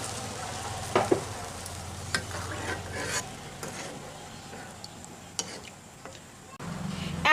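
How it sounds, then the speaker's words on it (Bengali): Water added to frying masala for a raw green banana curry, bringing a soft sizzle in the pan with scattered stirring clicks and scrapes, fairly quiet overall. "এবারে এর মধ্যে আমি জল দিয়ে দিচ্ছি।"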